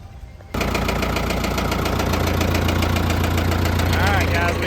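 Case 555C backhoe diesel engine catches after a short quiet moment and settles into a loud, steady knocking idle close by.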